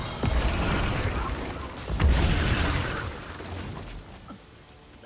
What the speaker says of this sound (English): There was a little bit of explosion at the end of that.